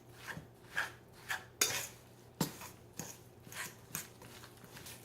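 Salisbury steak meat mixture being mixed with spices in a bowl, heard as soft, wet squishing and occasional utensil clinks against the bowl, about eight rhythmic strokes, close and quiet with no talking.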